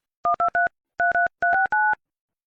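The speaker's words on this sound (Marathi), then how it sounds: "तिला फोन लावतो आता." Touch-tone telephone keypad dialing: seven short, clear beeps in two quick bursts with a brief pause between, alone with no talk.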